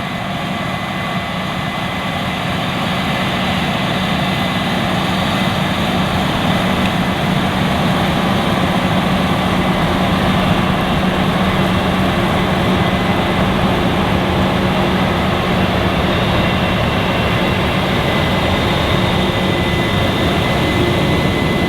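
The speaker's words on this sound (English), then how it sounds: "let's head out to the field so that you can see and hear these big red combines hard at work" Case IH 8260 combine harvesters harvest wheat in an open field with a loud, continuous heavy engine drone and a steady low hum that builds slightly at the start and then holds even, with no talking.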